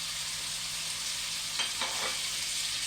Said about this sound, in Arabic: بعد كده هنزل مكعبات الطماطم